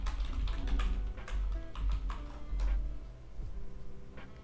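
Typing on a computer keyboard while working in an online image editor, a steady patter of soft key clicks over a low background hum, fairly close and continuous, with no voices.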